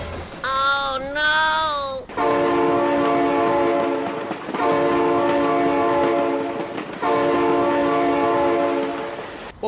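A loud, sustained multi-tone train horn blares in the BeamNG Drive driving game, sounding in three long blasts with short gaps, preceded by a brief wavering shout and rumbling track noise underneath.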